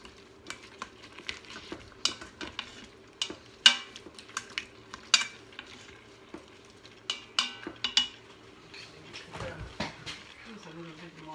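Vegan Hungarian goulash ingredients being sautéed and stirred in an Instant Pot, with scattered clinks and scrapes of a utensil against the metal pot over a low sizzle, irregular and close, while people talk in the background.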